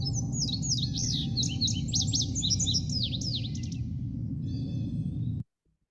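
A complex, lengthy bird song of rapid chirps and warbled phrases rings out clearly over a steady low rumble, then cuts off abruptly near the end.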